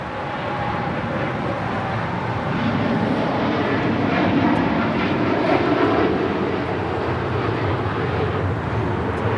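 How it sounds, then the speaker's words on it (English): A Turkish Airlines Boeing 787-9 Dreamliner takes off from LAX bound for Istanbul, its engines a steady broad roar that swells gently in the middle and holds fairly loud throughout. "This is Turkish Airlines 180 taking off to Istanbul on a 787-9 Dreamliner."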